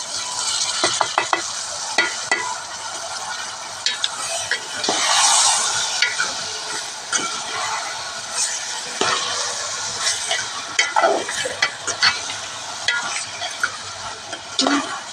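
Soaked chana dal frying and being stirred in a hot pan for a coconut curry, with a steady broadband sizzle and repeated spatula scrapes and clicks throughout, close and fairly loud, with no speech.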